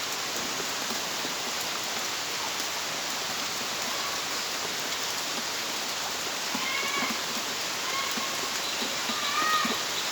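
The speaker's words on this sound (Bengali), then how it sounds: "বৃষ্টি তো থামতেছে না, বৃষ্টি হইতে আছে" Heavy, unrelenting rain pours down during flooding, a dense, even hiss that fills the whole stretch. Faint meow-like cries rise over it toward the end, with no talking.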